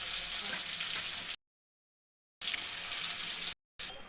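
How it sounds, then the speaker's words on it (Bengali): Chopped onions frying in oil in a wok give a steady close sizzle, broken by two abrupt silent gaps, without talk. "এবার কড়াইতে আরেকটু তেল দিয়ে"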